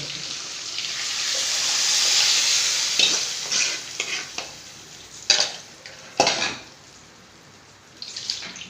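A pot of fish curry simmering and sizzling on a home stove, with a steady hiss that swells early on, then scraping stirs and a few sharp clinks of a utensil against the pot, no voices.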